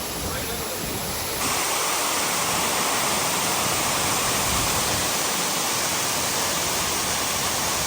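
Tall waterfall in Munnar, Kerala, pouring from a great height, heard as a dense, loud, continuous roar that swells slightly after a moment and then holds steady.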